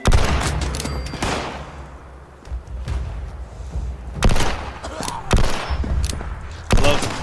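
Gunfire from a weapon in the video game Fallout 76 rings out in several loud, sharp bursts, with heavy single shots spaced a second or so apart and clusters near the start, middle and end.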